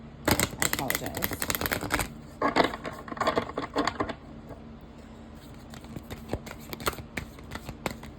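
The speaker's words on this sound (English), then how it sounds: "the sound of the shuffling of the cards is loud" Playing cards are shuffled close up in loud riffling bursts, repeated several times with brief pauses, followed by lighter scattered card snaps.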